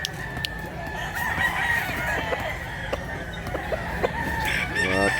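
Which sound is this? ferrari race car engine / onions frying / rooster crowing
rooster crowing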